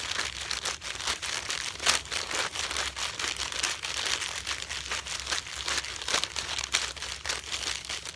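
Rolled newspaper being squished and crumpled for a craft vine, a continuous close crinkling and crunching of paper with uneven rustling bursts throughout, no talk.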